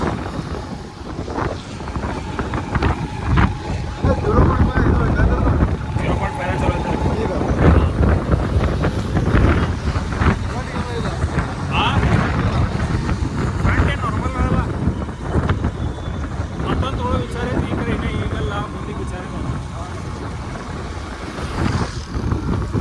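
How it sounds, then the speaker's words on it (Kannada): Strong wind buffets the microphone outdoors in a village under cloudy skies, a loud continuous rumbling roar that holds steady throughout with gusty swells. "ವಿಂಡ್ ಬ್ಲಾಸ್ಟ್ ಭಾಳಾಗೈತೆ ಅಂದ್ರೆ ಇದು"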